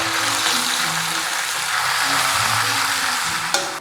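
Duck pieces fry in a hot wok in oil for braised duck, making a loud, steady sizzle that fills the whole stretch, with a brief sharper clatter near the end and no talking.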